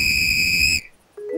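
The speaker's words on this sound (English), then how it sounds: "Why do you keep blowing that whistle?" A sports coach blows a whistle in one long, loud, steady shrill blast that cuts off abruptly, followed by a brief quiet and a faint electronic tone.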